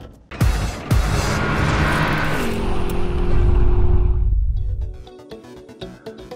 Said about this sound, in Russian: Сейчас мы сядем за баранку этого автомобиля, прокатимся и узнаем, едет ли она или нет.